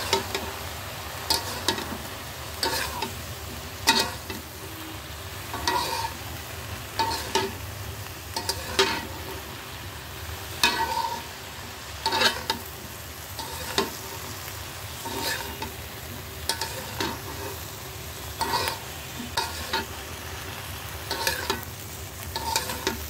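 Water lily stems cooking uncovered in a pan with onion and green chilli, a steady sizzle broken by regular scraping stirs of a utensil against the pan over more than twenty seconds, no voices.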